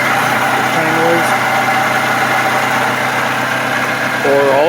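A loud, steady mechanical whirring hum from a failing water pump on a running 2011-2012 Toyota Sienna 2.7 engine, a continuous rotating drone with faint tonal whine, close up and unbroken.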